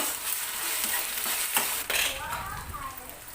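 Sliced onions and ginger garlic paste sautéing in a pan for a gongura mutton curry, giving a continuous close sizzle with a few utensil scrapes and clinks as the mixture is stirred, and no voices.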